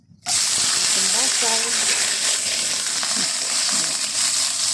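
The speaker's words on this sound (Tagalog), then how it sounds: "Magluluto ako ng atay, guys." Liver sizzles steadily in a hot frying pan, a loud continuous hiss for nearly the whole stretch after a sudden start, with faint low clatter beneath.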